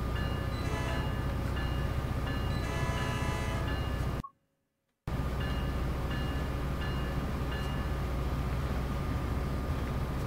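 A train running in a video game, a steady mechanical rumble with tonal hum and whine that cuts out abruptly for about a second midway before resuming at the same level.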